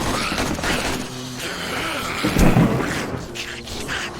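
A crackling, thunder-like lightning strike from a sorcery spell in the Darkness Falls game mod rises briefly over a dense, rumbling wash of game sound during a horde night, loud and close, then fades back into the background.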